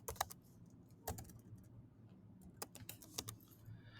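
Fingers type on a computer keyboard in Xcode, with quick sharp key clicks in uneven clusters and short pauses between them, close and fairly quiet over a low room hum.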